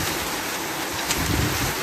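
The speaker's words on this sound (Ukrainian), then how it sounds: "Такий вітер зривається жахливий." Strong storm wind in a Ukrainian village garden buffets the microphone in a continuous broad roar, loud and unbroken for a couple of seconds with a gust near the end.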